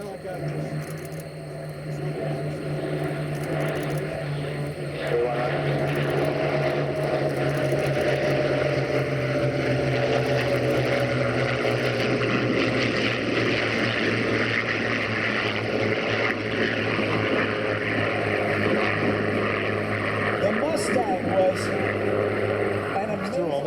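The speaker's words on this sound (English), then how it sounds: "to listen to the sound of these Merlin engines. Liquid-cooled V12" Warbirds in formation, a Spitfire, an F4U Corsair and P-51 Mustangs with liquid-cooled Merlin V12 engines, pass in a sustained loud propeller drone that swells and holds steady with a low harmonic growl, voices faintly underneath.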